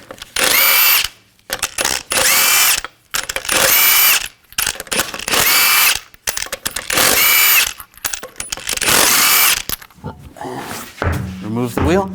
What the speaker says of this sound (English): Use a 22mm socket to take the lug nuts off.